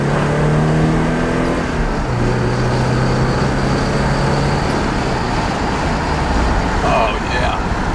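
A 1984 Porsche 944 accelerates on the road, its engine note climbing and then dropping through a gear change under steady road and wind noise, heard from inside the car.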